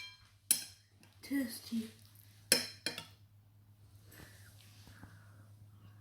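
A spoon clinks against a dish of saag a few times, with sharp, bright taps separated by gaps, while a voice speaks briefly and a low steady hum sits underneath.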